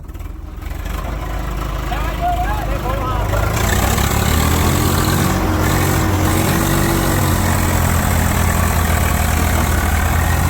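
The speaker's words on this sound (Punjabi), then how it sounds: "ਉਹ ਮੋਟਰਸਾਈਕਲ" A motorcycle engine idles steadily at a low rumble, rising slightly after a few seconds, with voices talking over it.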